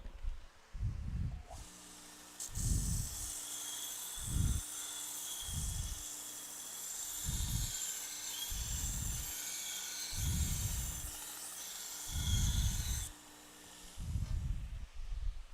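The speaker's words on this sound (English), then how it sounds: "With our 3/8 inch spindle gouge. Well, let me sharpen that real quick." Sharpening a 3/8 inch spindle gouge for woodturning: a steady high grinding hiss runs through most of the stretch, with regular low rhythmic pulses repeating about once a second, fairly close and without talk.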